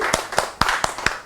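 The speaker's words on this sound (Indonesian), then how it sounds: "Oh keren, tepuk tangan." Five sharp, evenly spaced hand claps ring out close and loud in quick succession during a forest and environment podcast, with no talk over them.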